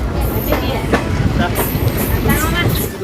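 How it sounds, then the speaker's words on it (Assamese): A train pulls out of a station in Assam, its cars rattling and clacking along the rails with metallic squeals and clunks as it gets moving, loud and close. "এতিয়া ধেমাজিৰ পৰা আমাৰ ট্ৰেইনখন ৰাওনা হৈছে"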